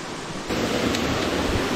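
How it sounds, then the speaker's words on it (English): Broad, steady rush of an Oregon waterfall pouring into rocky pools, swelling louder after the first half second and holding as a continuous near roar with no voices. "Oh, there's the falls."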